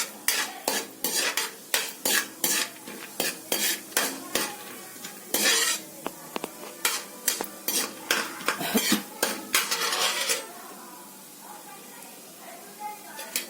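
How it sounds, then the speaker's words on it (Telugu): Lentils fry in ghee in a pan for malai laddu while a spoon stirs and scrapes in quick, rhythmic strokes over a soft sizzle, with metallic clinks loud and close. "ఇవన్నీ పప్పులు వేగాయి"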